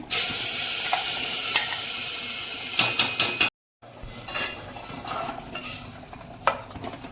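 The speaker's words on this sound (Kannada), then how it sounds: "ಒಗ್ಗರಣೆ ಸ್ವಲ್ಪ ಕೊಬ್ಬರಿ ಎಣ್ಣೆ ಹಾಕ್ಕೊಂಡೆ ಇಟ್ಕೊಂಡಿರೋ ಮಸಾಲೆ ಹಾಕ್ಕೊತಾ ಇದ್ದೀನಿ" Masala sizzles loudly in hot coconut oil for a mutton pulao, hissing steadily with stirring scrapes and clinks of a spoon against the pan, broken by a brief gap before quieter frying and stirring resume.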